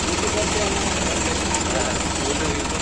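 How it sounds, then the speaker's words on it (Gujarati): A tractor engine runs continuously while hauling fertilizer on a farm. It gives a loud, close, steady rumbling drone with a rapid knocking throb and no pauses. "આપણે તલોબા ટ્રેક્ટર હાકે છે"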